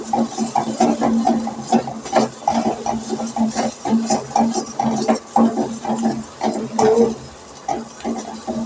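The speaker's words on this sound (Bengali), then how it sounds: "তো নাড়ছি আমি।" Taro mash stirred in hot oil in a pan, a steady run of scraping, soft sizzling and spoon strokes in an uneven rhythm, close and moderately loud.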